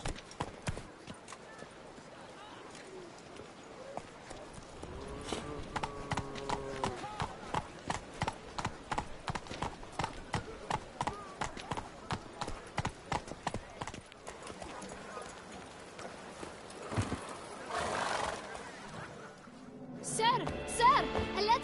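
Roach, the horse from The Witcher 3, gallops in a steady, close clip-clop of hooves throughout, with a short whinny and game sounds rising near the end.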